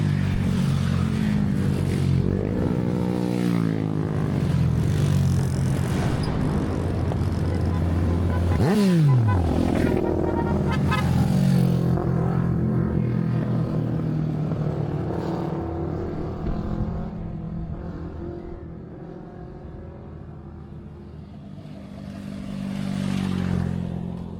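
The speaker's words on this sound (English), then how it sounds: "Engine's coming." A motorcycle engine approaching along a scenic mountain highway where riders pass, a rising drone and rumble building over the clip with a sharp whine partway through, under occasional talk from a nearby man.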